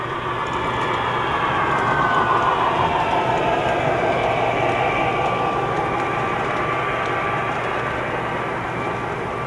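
An O gauge model train runs on a layout with a steady rumbling roll, a continuous mechanical whir and faint rhythmic clicking of wheels on track, with no talking.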